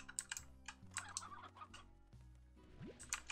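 Chickens in the Slime Rancher video game clucking in short bursts through a busy ranch soundscape, with a tapping, clicking layer of keyboard or game noise over steady music.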